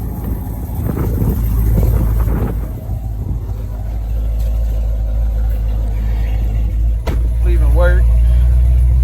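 First-generation Dodge Charger on a test drive after a rear end swap with new axles, differential and drive shaft, its engine rumbling loud and close through wind buffeting, with a sharp knock and then a rising whine near the end.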